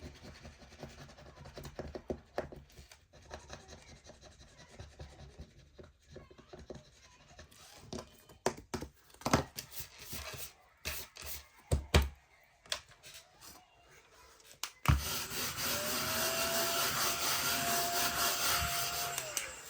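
Scratch cards being scratched off, with bursts of close, gritty rubbing and scraping in irregular strokes, followed by a louder, steady broadband noise over the last few seconds.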